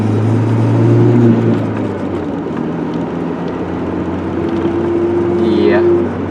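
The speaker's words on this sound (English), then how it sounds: "There's a little whine to it when you get up to higher RPMs in like 3rd and 4th and 5th gear" A manual Ford Ranger drives along with a steady engine and road drone, a thin high whine rising at higher revs, while the tone shifts partway through as if between gears.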